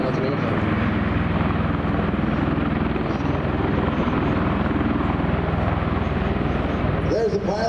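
A tiltrotor aircraft flying in helicopter mode at an air and space expo gives off a loud, continuous rotor thrum and engine roar, with an announcer talking over it.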